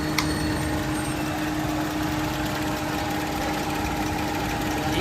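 Honda car engine running at a steady idle after being brought back to life, a close, continuous low rumble with an even mechanical hum and no break throughout.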